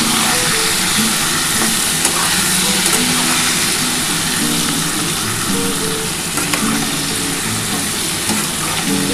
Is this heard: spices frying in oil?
yes